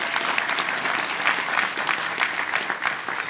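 Audience at a university State of the University address applauding steadily throughout, a dense wash of clapping from a large crowd in a hall with no break.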